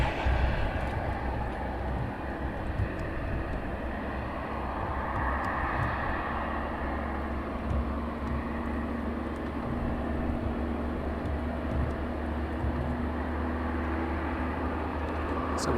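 A jet airplane arriving at East Midlands Airport at night, its engine roar a steady, broad rumble heard from a distance for the whole stretch.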